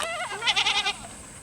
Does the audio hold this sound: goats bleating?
yes